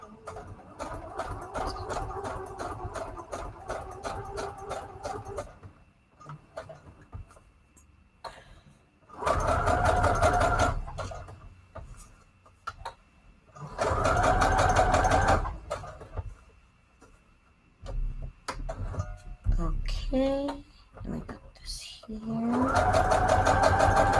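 Domestic sewing machine running a straight stitch on its longest setting while tags and envelopes are made, in loud, rapid mechanical bursts that start and stop several times, with someone talking in the gaps.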